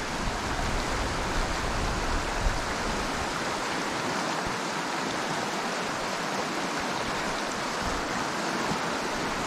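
Flowing water of a trout stream, a steady broadband rush and babble that holds evenly throughout with no voices.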